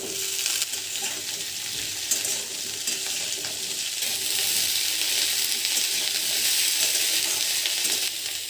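Cauliflower and thinly cut potato fry in hot mustard oil with dried red chilli and nigella seeds, giving a close, steady crackling sizzle that swells a little midway, with occasional spatula scrapes and no talking.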